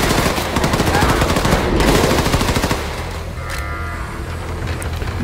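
Sustained rapid machine gun fire from a Wolfenstein 2: The New Colossus firefight, loud and continuous for the first few seconds before easing into a quieter rumble of combat with scattered higher noises.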